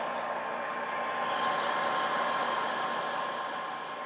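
A hair dryer blows steadily over a freshly painted timber wolf miniature, a constant close whoosh of airflow with a faint motor whine, holding even for the full few seconds with no talking.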